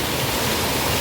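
Rainwater rushes and tumbles along a village stream about ten minutes after a monsoon downpour begins, a dense, steady roar with no breaks or voices.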